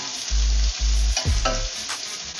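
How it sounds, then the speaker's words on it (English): Octopus adobo with onion and ginger being stirred in a hot pan: a close, steady sizzle interrupted by a few heavy, booming knocks and scrapes. "Stir occasionally."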